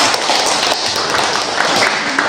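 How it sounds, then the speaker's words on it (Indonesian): A classroom of students claps for a classmates' group after its presentation, a dense, steady wash of many hands close by that keeps an even level throughout. "Silakan berikan tepuk tangan kepada kawannya."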